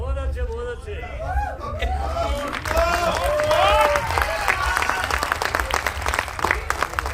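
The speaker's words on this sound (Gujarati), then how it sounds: "હવે આ તાળીઓ છે" An audience at a film cast introduction claps in sustained, dense applause, with crowd voices and chatter rising over it and the clapping continuing to the end.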